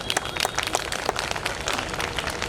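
Audience clapping after a poetry recital, a patter of many hands in loose, uneven rhythm, moderately loud and continuous across the moment without voices.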